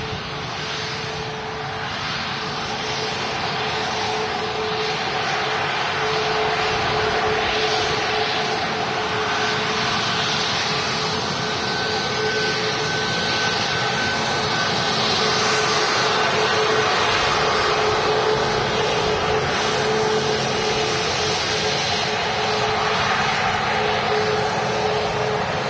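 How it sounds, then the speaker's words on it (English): An Emirates A380 airliner departs from Manchester Airport, a broad distant roar that builds gradually and holds steady as the engines power up for takeoff. "The Emirates A380."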